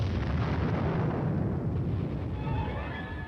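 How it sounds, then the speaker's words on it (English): A rumbling barrage of artillery air bursts rolls on continuously, heavy low booms blending into a sustained roar that slowly fades, with a faint high whine emerging toward the end. "Under the cover of continued artillery air bursts, the team advances."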